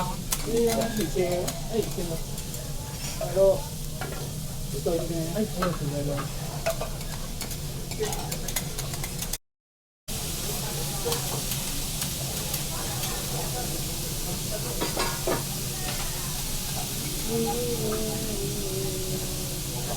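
Garlic chips sizzle on a grill at a Kobe beef restaurant in Japan, a steady close-up hiss with clinks and scraping of utensils, while people talk nearby.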